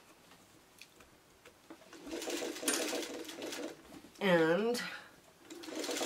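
A sewing machine stitches a quilt Y seam in a quick mechanical whir of a few seconds, then a person speaks briefly as the machine stops and resumes softly.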